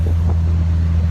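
Steady low rumble of a 1966 Triumph TR4A, an English car, driving with its engine droning continuously up close and loud, with no talking.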